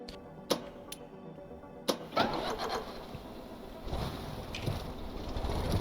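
A car engine in a video game cranks with a few sharp clicks, then catches and settles into a steady, continuous running drone as the car drives off.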